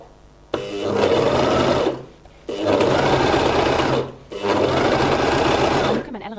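A Gritzner 788 overlocker sewing fabric in three steady bursts of fast, whirring stitching separated by short pauses, loud and close, with no talk over it.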